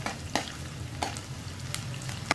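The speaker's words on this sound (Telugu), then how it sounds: "ఇలా కాస్త ఎర్రగా వేగుతున్నప్పుడు కాస్త ఇంగువని వేసుకుందాము" Crushed garlic frying in a little oil as tempering for an amla (Indian gooseberry) pickle, a steady soft sizzle with a few sharp stir or scrape clicks, close and moderately quiet, no voices.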